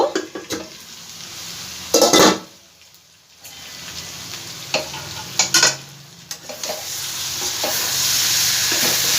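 Green jackfruit being stirred and fried with spices in a pan over a medium flame, with a continuous sizzle broken by sharp scraping clinks of a utensil against the pan and one brief quiet gap.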